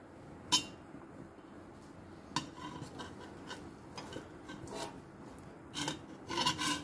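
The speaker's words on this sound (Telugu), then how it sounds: "ఇగో ఈ గిన్నెలను అయితే వేసుకోవాలి" Cooking bowls are handled and set down in a home kitchen while leftover rice and warm milk are prepared: a few scattered, close clanks and knocks with soft scraping rubs between them.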